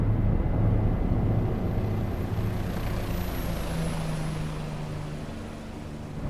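Steady low rotor and turbine drone inside the cockpit of a simulated Bell 407 helicopter in X-Plane 11, muffled and continuous, with a faint high whine drifting across the top throughout.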